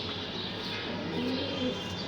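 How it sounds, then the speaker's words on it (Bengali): Soft, low coos from senior and young racing pigeons kept in one loft room repeat a few times over a steady background hum, indoors and fairly close, with no talking. "এখন এক রুমেই কবুতর আছে"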